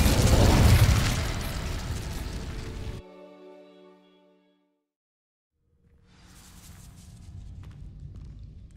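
The Incendio fire spell in Hogwarts Legacy sets dry vines alight with a loud whooshing blast. A ringing tonal tail fades into near silence, then a low crackling, rumbling burn rises again.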